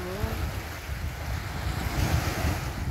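Rough sea surf washing steadily onto the shore, a continuous broad roar with gusting wind buffeting the microphone, fairly close and without talk.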